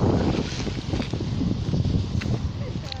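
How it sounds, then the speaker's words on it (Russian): Small sea waves roll onto a beach at Steregushchee in Crimea, a steady washing surge mixed with wind buffeting the microphone, close and fairly loud throughout. "Здесь волна помельче идет, просто накатом."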